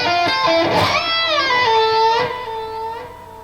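An electric guitar plays a short lick, slightly sped up, with a step-and-a-half bend that walks down chromatically. Sustained bent notes ring out clearly, with no voice over them.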